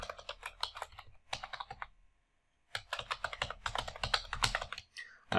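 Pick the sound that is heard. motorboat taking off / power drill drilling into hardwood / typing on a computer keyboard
typing on a computer keyboard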